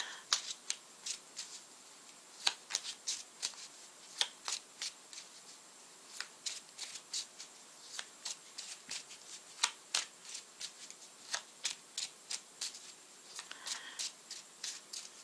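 Tarot cards are shuffled by hand in a steady run of crisp riffles and flicks that lasts the whole stretch, close and fairly quiet, with no talking.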